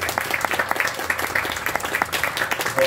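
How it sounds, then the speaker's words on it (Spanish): Applause at a 73rd anniversary celebration of the canton of Sarchí, a steady patter of many hands clapping throughout with some crowd noise, moderately loud. "Un aplauso para Don Pili."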